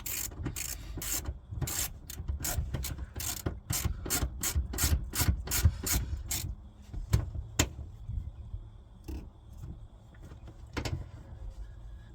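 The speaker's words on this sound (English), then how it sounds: "So just tighten the 2 bolts back up." A ratchet tightens the seat bolts in a Mk4 Golf GTI with a rapid run of sharp, close clicks. Slower single clicks and a few faint rubbing sounds follow, in a quiet car interior.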